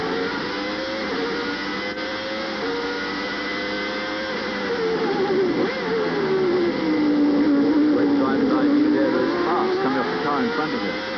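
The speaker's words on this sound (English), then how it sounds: "Let's listen to the sound of this Renault engine as Terry Boutsen takes us around." A Renault V10 Formula 1 engine in Thierry Boutsen's car on the rough Phoenix street circuit at the 1990 US Grand Prix, a steady high-pitched onboard wail rising and falling through the gears, loud and continuous.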